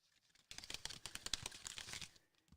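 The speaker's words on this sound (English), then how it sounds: "Let me give it the waterfall shuffle." A deck of playing cards riffled in a waterfall shuffle during a live card magic show, a quick burst of dense crisp flutters and clicks lasting about two seconds, close and fairly soft, with no talk over it.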